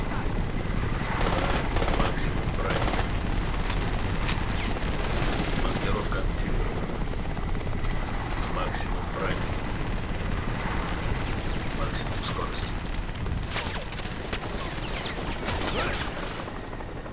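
Helicopter battle in Crysis, a loud, sustained rotor roar mixed with rapid bursts of gunfire and scattered sharp impacts throughout.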